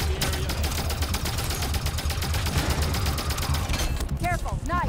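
Continuous rapid weapon fire in Halo 5, first mission, a dense rattling stream of shots with game voices calling out over it.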